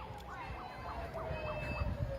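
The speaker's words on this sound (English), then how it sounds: "Nope, I hear that's other sirens." Wailing emergency sirens at a street protest against police in Salem, Oregon, several rising and falling tones overlapping at a moderate distance over a steady crowd and street rumble.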